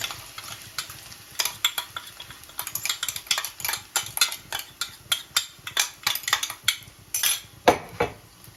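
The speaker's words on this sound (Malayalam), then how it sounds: "ഞാനൊന്ന് ഇളക്കി കൊടുക്കാം എപ്പോഴും ചീനിച്ചട്ടിയാണ് ഇങ്ങനെയുള്ള ഇലത്തോരനൊക്കെ എടുക്കാൻ നല്ലത്" Repeated scraping and clinking of a spatula stirring leaf thoran in an iron wok (cheenachatti), made from bean leaves, in a steady rhythm of sharp metallic strokes over a faint sizzle, close and fairly loud with no talking.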